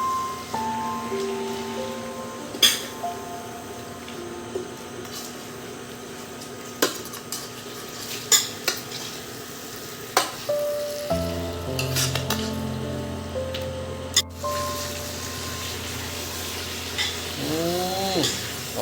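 Chicken and potato curry sizzles and fries in a pan while being stirred, with steady frying noise and repeated sharp clinks of a spatula scraping the pan; a brief voice surfaces near the end.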